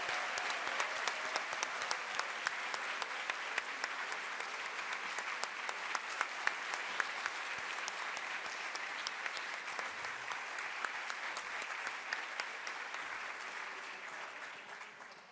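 A large crowd at a university convocation ceremony applauds steadily for about fifteen seconds, dense clapping that slowly fades toward the end.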